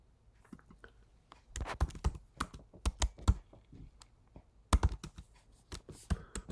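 Typing on a computer keyboard comes in quick irregular bursts of crisp key clicks, close and fairly quiet, pausing briefly between runs of keystrokes.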